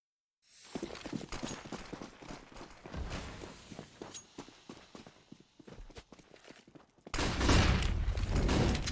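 Counter-Strike match on Dust2 with rapid SMG gunfire in quick rattling bursts, followed by a louder whooshing roar of a Molotov fire at the end.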